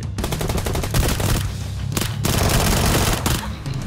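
Sustained automatic gunfire in the PUBG Lite battle royale game, dense rapid bursts of shots running almost continuously, loud and close, with a brief gap midway before the firing resumes.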